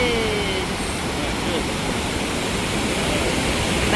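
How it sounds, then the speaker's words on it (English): River rapids at Sandstone Falls in the New River Gorge, West Virginia, a loud, constant roar of rushing whitewater that fills the whole stretch without a break. "Some roughed up water for you. Woo. Rapids."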